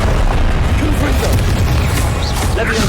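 Confringo blasting-curse explosions in the PS5 game Hogwarts Legacy: loud, booming, crashing bursts with heavy low rumble, packed together and continuous across the stretch, with a brief voice mixed in.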